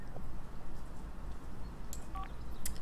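A Sim in The Sims 4 checks her phone: a quick run of soft electronic tone beeps and chirps, mostly near the end, over a steady ambient game background with no talk.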